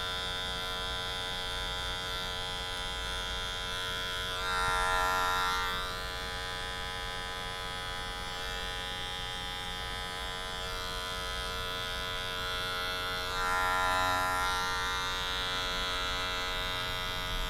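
Electric hair clippers buzzing steadily throughout a mid fade haircut, a close, constant motorized hum that swells briefly twice as the blade meets hair, with no talking.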